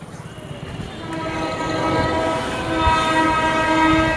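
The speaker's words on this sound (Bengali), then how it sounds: "ও ট্রেন আসছে, দাঁড়াও দাঁড়াও দাঁড়াও গাইস, ট্রেন দেখাবো" A passing train sounds its horn in long, steady tones over a building rumble of rolling wheels, close and loud, with no talking.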